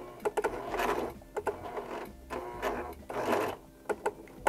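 A sewing machine stitches a linen tea towel, its needle running in bursts of fast close chatter separated by short pauses and a few clicks.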